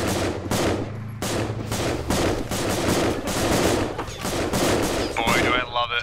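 Rapid automatic gunfire and explosive shots from the Halo video game rattle loudly and almost continuously, with bursts separated by brief gaps and a faint electronic tone near the end; a voice is partly heard under the shooting.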